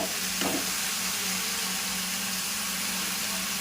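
Amaranth leaves (thotakura) go into a pan of frying onions, setting off a close, continuous sizzle that holds steady throughout with a faint hum beneath it.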